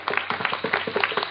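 Scattered clapping from the audience at an integrative medicine and wellness conference closing ceremony, a brief, moderate burst of hands with a steady uneven rhythm.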